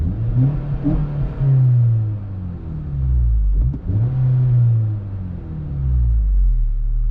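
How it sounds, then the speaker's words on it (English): A 2014 Honda Civic Si engine revs hard and climbs in pitch through several gear shifts, the rising whine loud and close throughout. "You can hear how high revving this engine is when you're driving it."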